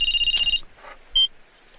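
A telephone ringing on an outgoing call, a short electronic ring tone, a pause, then a second brief tone, loud and close.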